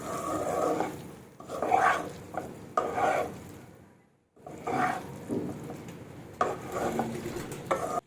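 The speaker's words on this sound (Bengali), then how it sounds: "তুলে এবার কিন্তু ভালোভাবে একটু নাড়াবো।" Dry curry of okra, potato and capsicum stirred in a pan without water, soft sizzling under repeated scraping strokes of a spatula, with a brief pause partway through.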